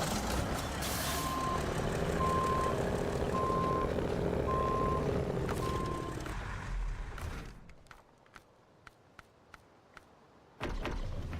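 Reversing beeps from a Kenworth truck in a trucking video game, evenly spaced tones over a loud running engine for about six seconds, then a hiss of air brakes and quieter clicks before the engine surges back.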